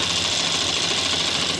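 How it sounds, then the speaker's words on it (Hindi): A sewing machine stitches a seam on a men's kurta with a loud, continuous, even whir, close up and with no voices. "हमने सिलाई लगा दिया है दोस्तों यहाँ पर।"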